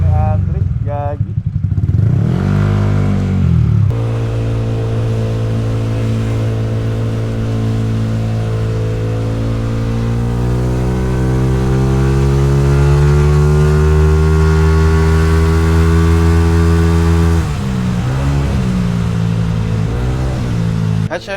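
Close, loud revving from a Honda ADV 160 scooter fitted with an aftermarket exhaust: a short blip, then a long sustained rise in engine pitch held for several seconds before dropping back to a rough idle.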